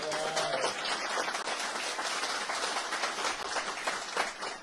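Crowd at a campaign event for an LA County Sheriff candidate applauding a longtime Sheriff's Department staffer, a steady mass of clapping from a sizable audience, moderately distant and continuous throughout.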